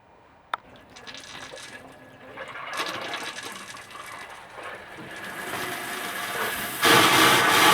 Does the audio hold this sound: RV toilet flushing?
yes